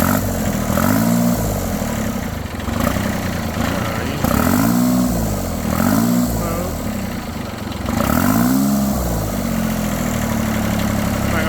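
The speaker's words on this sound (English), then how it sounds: "keep revving on it cold, so we'll let it warm up a little bit" A turbocharged Kubota B7100 tractor's diesel engine, still cold, runs loud and steady, its pitch rising and falling in several repeated revs before settling back toward idle.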